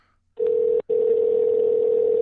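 A telephone dial tone sounds clearly and loudly as a call is placed. It is a steady pure hum that stops once for a brief gap and then continues without a break.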